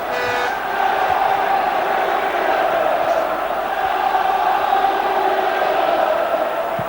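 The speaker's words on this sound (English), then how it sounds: "Home crowd lifted for the first time" Home football crowd at Norwich City's stadium lifting in a loud, sustained roar during a 1994 FA Cup fourth-round match against Manchester United, a broad continuous swell after a brief quieter start.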